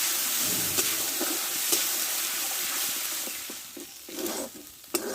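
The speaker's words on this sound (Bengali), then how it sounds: "একটু আদা বাটা আর একটা টমেটো পেস্ট করে নিয়েছি আমি দিয়ে দেবো এটা আমি ভালো করে কষে নেবো" Ginger paste and tomato paste stir-fried in oil for a papaya and pointed gourd dish, an even sizzle broken by scraping stirs and utensil knocks, close and moderately quiet, no talk.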